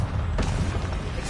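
A Confringo blast spell in Hogwarts Legacy, a single booming burst with a crackling explosive tail, loud and close over dense game background.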